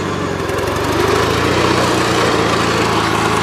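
A Gravely 8163-T walk-behind tractor runs in fourth gear, its small engine chugging loudly and steadily at close range with a rapid, even firing rhythm and no voices.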